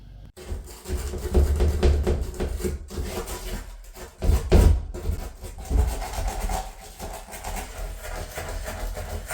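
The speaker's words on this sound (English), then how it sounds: "using the brush in those corners when needed" A small brush scrubs dirt out of the tight corners of a door, a steady close rasping scrub in uneven strokes with no voices.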